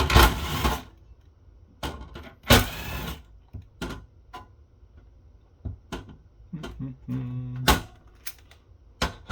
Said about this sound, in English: I switch to my number 2 Phillips because that's what the rest of these screws are